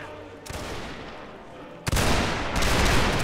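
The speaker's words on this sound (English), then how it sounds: "We got a Scottish line in those bushes about to shoot us." Musket volleys crack out at a historical reenactment battle as a Scottish line fires from bushes, with a sharp burst near the middle followed by sustained loud rolling gunfire.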